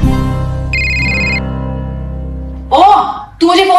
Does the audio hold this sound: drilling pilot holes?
no